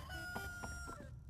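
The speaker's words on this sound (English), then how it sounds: "if you haven't heard the roosters crow, that means I'm doing something right" A single rooster crows loud and close in a video game, one short cock-a-doodle-doo burst of under a second and a half, with no talk.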